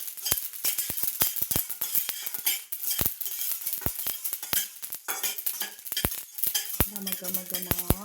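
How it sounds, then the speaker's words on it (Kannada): Mustard seeds spluttering in hot oil while cooking Coorg pork masala, a steady run of sharp, irregular pops and crackles, some close and loud, over a faint sizzle, with no voices. "ಸಾಸಿವೆ ಸೌಂಡ್ ಬರ್ತಾ ಇದೆಯಾ? ಚೆನ್ನಾಗಿದೆಲ್ಲ ಸಾಸಿವೆ ಸೌಂಡು."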